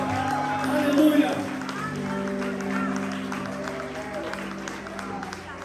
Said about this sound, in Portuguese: um aplauso bem forte a Jesus